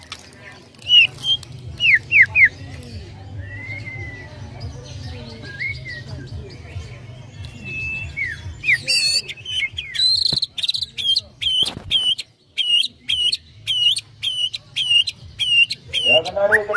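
White-rumped shama (murai batu) singing repeated loud, bright whistled phrases and rapid chirps close by, growing busier in the second half, over a steady low hum with other faint bird and insect calls in the background.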